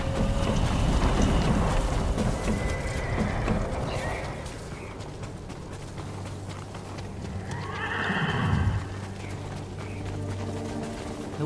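Horses in the Ghost of Tsushima video game neigh and whinny near a lakeside fishing camp, with clip-clopping hooves running under steady ambient noise and a louder whinny late in the scene.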